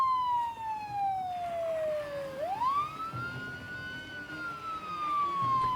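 A siren wails in the Project Zomboid video game, a single falling tone that swoops sharply back up and holds high, steady and moderately loud with no talk over it.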